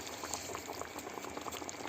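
A steady bubbling simmer of ribs in a sour cream sauce over low heat, with soft popping and sizzling, continuous and close, no voices present.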